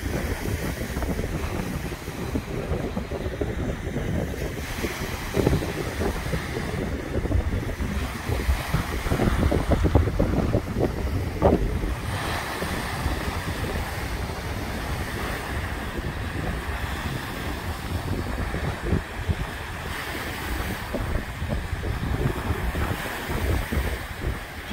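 Couple-foot waves roll in on the Lake Erie shoreline, a continuous near surf wash swelling and receding over steady wind noise, with no one talking.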